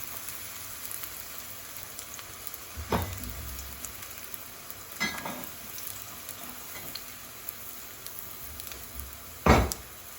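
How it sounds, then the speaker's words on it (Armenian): Eggplant slices frying in olive oil in a hot pan, a soft, steady crackling sizzle with occasional louder clanks and scrapes from handling, heard alone without talk. "թավան տաքանալուց հետո սմբուկները տապակում ենք երկու կողմից"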